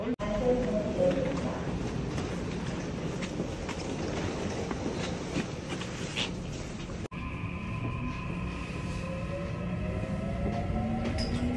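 A train pulls into a subway station in Pocheon, South Korea, with a steady rolling rumble and station hum. The rumble gives way to a brighter, tonal passage, likely a chime or announcement tune, and speech is faint or absent.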